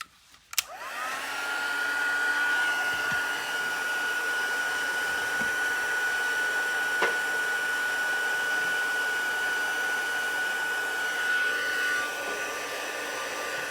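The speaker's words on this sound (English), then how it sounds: "using my heat gun just to heat it up and melt the powder" Heat gun melting embossing powder on a Christmas card: after a click, a loud, steady blowing whine with a high tonal hum runs nonstop for about eleven seconds, then cuts off.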